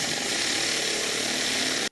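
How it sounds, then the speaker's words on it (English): A power drill bores a 3/8 inch hole, a steady, loud, close whirring grind that holds constant for under two seconds before stopping abruptly. "Now I will simply start up drilling these in steps, 3/16, quarter, and then we're going to end up at 1/2 an inch."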